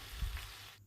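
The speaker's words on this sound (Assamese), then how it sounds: "চেনিখিনি দিয়াৰ পিছত তাড়াতাড়ি লৰাই থাকিম।" Mango chutney with sugar being stirred in a frying pan, a soft low sizzle with light scraping that cuts off abruptly near the end.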